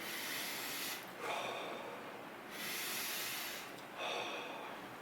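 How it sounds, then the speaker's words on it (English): Slow, deep breathing: about two full cycles of long, airy inhales and exhales, close and clear, with no talking over them. "one of my big things is deep breathing"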